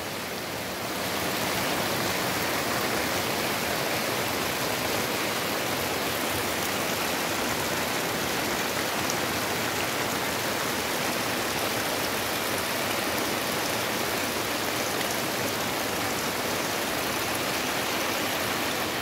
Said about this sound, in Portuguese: Muita chuva, viu, meus amigos? Chuva demais, olha.